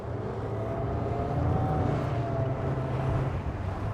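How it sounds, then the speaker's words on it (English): Boat powered by twin 200 horsepower Suzuki outboard engines, latest model, planing at about 11.5 knots off Miami; a steady low engine drone with wind and water noise runs continuously at close range. "we have 2 200 horsepower outboard engines."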